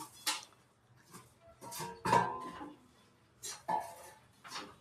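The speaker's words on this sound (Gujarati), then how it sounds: "તો હવે નાખે છે સિંગદાણા." Peanuts go into a pan in a home kitchen while peanut chikki is made, giving several separate metallic clinks and clatters with quiet gaps between them.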